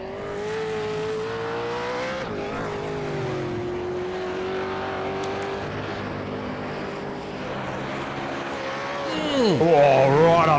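V8 Supercar engine in a sim racing game at Bathurst, a sustained droning engine note holding steady then dropping and rising again as the car brakes and accelerates, loud and close, with commentary over it.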